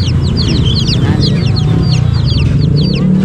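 Cochin bantam chicks and chickens at an outdoor pet market, with continuous high peeping of many chicks and lower clucking over a dense crowd murmur, loud and close throughout.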